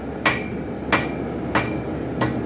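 A hammer strikes a spike knife on an anvil during forging, four evenly spaced ringing blows with a bright metallic ping, close and clear over a low background hum.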